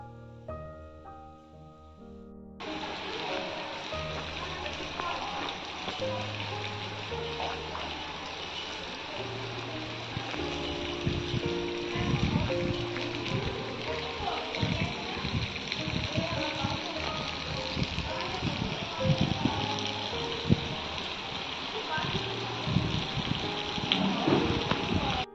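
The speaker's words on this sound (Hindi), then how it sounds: "तो देखिए कितनी ज़ोरों से बारिश हो रही है, बहुत ही तेज़ लगातार बारिश हुई है" Heavy, continuous monsoon rain falls around a house roof, a dense loud roar of downpour with splashing drops and occasional distant rumbles, steady for the whole stretch.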